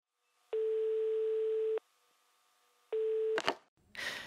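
A telephone line sounds two flat, steady tones, one long and one short with a silent gap between them, then clicks and handling noise as the line connects.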